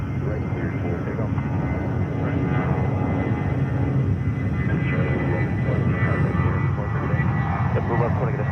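A JetBlue airliner takes off from runway 22 right at JFK, a steady loud engine roar that fills the whole stretch with a broad rumbling rush, under a voice on the radio.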